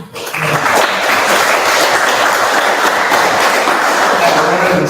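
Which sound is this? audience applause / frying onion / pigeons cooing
audience applause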